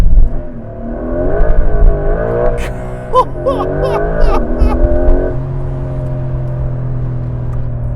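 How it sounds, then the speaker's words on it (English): A Porsche 911 GTS T-Hybrid sports car accelerates hard, its engine climbing through rising revs with a gearshift break midway, loud and close from inside the cabin, then settling into a steady drone while people talk and laugh. "did you know this car accelerates from 0 to 60 in 3 seconds?"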